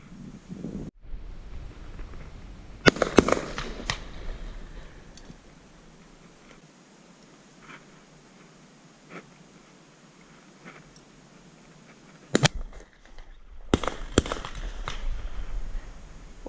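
Shotgun shots fired at pigeons outdoors: a few sharp, loud blasts spaced several seconds apart, with wind noise and rustling between them.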